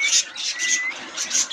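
Pet birds, including cockatiels, chirp and squawk in a home aviary, with repeated short bright calls in quick bursts, fairly close and clear.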